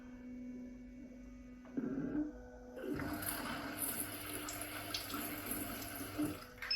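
A steady spray of heated water from a smart bidet toilet seat, constant and fairly close, with a faint electrical hum underneath and slight shifts in the flow partway through.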